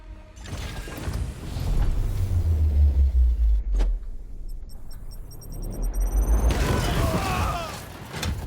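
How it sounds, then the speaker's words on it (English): A grenade goes off in Warhammer 40K Chaosgate: Daemonhunters. A deep rumbling boom swells and rolls on for several seconds, then mechanical clanks and rattles follow as it fades. "Grenade!"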